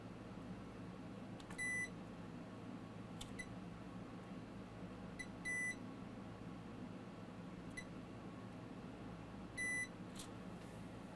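A multimeter beeping in continuity mode while probing the circuit board of an Asus ROG Zephyrus GU502 gaming laptop under repair: short, thin electronic beeps repeating every couple of seconds over a steady low room hum, with no talking.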